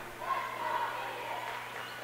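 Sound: crowd noise at high school volleyball match

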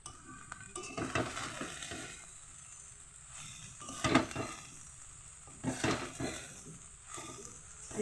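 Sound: frying leafy greens in a pan

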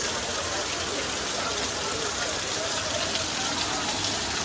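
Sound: rain

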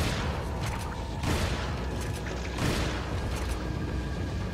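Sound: shotgun firing in the video game Resident Evil 4

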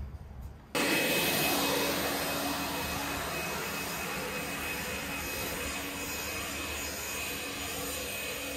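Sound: Allet Stirling battery cylinder lawn mower cutting grass

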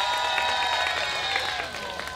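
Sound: audience applause at youth dance contest

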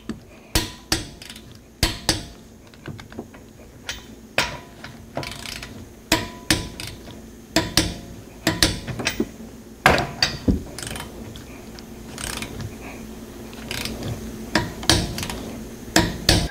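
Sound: torque wrench tightening lug nuts on a Honda Accord wheel

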